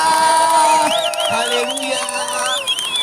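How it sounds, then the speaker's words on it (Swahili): A church congregation at an open-air village gospel gathering shouts for joy with high, wavering ululations rising over a dense, close crowd of cheering voices that continues throughout. "Shangwe na vigelegele kwa Bwana."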